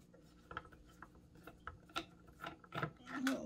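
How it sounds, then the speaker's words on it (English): Screws being backed out of a BEM wireless Bluetooth speaker, small close clicking and ratcheting turns in a quiet room, a series of brief ticks getting busier toward the end. "let's see if we can get all of these screws out"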